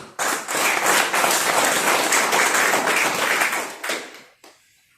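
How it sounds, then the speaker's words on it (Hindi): An audience at a multi-level marketing plan presentation breaks into loud, dense clapping that holds for about four seconds, then tapers off into a few scattered claps. "फिर से मैं चाहूंगा एक बार जोरदार तालियां होनी चाहिए।"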